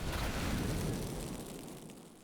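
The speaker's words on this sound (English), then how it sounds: "there could be a lot of explosions and fire" A heavy explosion rumbles in the Age of Wonders 4 video game, a dense roaring burst that fades away over a couple of seconds.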